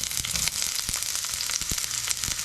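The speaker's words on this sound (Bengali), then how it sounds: "সেম তেলে আমি পেঁয়াজ কুচিটা ছেড়ে দিলাম" Chopped onion fries in oil just used for frying garlic, with a close, crackling sizzle, broken by a few sharp pops and light stirring clicks.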